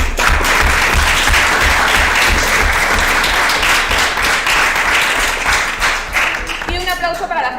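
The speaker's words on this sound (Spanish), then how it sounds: "así que también un aplauso para vosotros" Loud, sustained applause from the audience at a cosplay contest stage show, dense and steady with a rhythmic low thump underneath, ending as a voice briefly rises over the dying claps.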